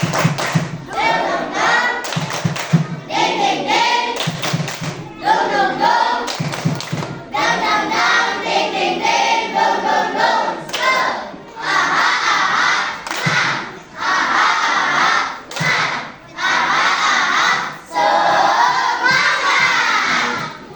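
Schoolchildren in an Indonesian elementary classroom perform a rhythmic spirit clap (tepuk semangat), loud bursts of group clapping and shouting in repeated patterns, with close, energetic crowd voices throughout.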